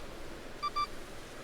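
A phone's message notification in the video game Pokémon Legends: Arceus sounds as two short, bright electronic beeps in quick succession, clear and high over a faint, quiet background.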